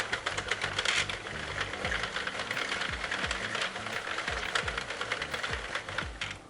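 A Sentro knitting machine cranked steadily around to cast off stitches, its plastic mechanism clattering in a fast, continuous rattling rhythm with repeated clicks, close and fairly loud, without speech.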